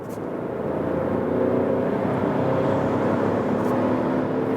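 A Jeep Renegade T-GDI pulls in third gear from about 70 to 100 km/h, its engine a steady, loud droning hum heard from inside the car with road noise and no talking.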